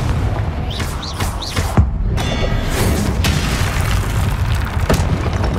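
A Confringo spell explodes in Hogwarts Legacy on PS5, a loud booming blast preceded by quick whooshing casts, then a rumbling crackling tail beneath dense battle noise.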